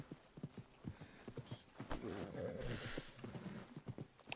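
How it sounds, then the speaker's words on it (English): Rhythmic hoofbeats of a horse in the Red Dead Redemption 2 video game, steady clip-clop at close range, briefly joined by a whinny mid-clip, with faint talk in the background. "How do I stop this fucking horse?"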